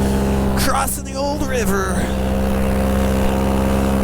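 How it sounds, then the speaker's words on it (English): A paramotor engine drones steadily and loudly in flight, a constant low hum with harmonic tones that runs throughout while someone speaks briefly over it. "Engine is humming along nicely."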